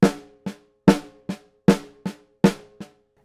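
Uneven double strokes played on a drum, four pairs in steady rhythm, each a loud hit followed by a noticeably weaker second note, close and dry with silence between pairs.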